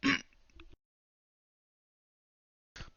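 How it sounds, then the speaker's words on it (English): A short throat clearing, followed by silence and then a brief faint sound at the end. "sorry, I had to clear my throat."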